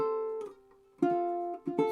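A ukulele plucks a few notes of Frère Jacques in double stops with a harmony a third above, soft and close, three short note groups ringing in under two seconds.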